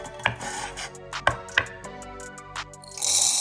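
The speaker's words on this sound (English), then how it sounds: "just go crazy chopping it back and forth like this" Knife chopping garlic on a board, quick irregular taps and thuds of the blade striking wood in short bursts, close up, followed by a rising rustle at the end.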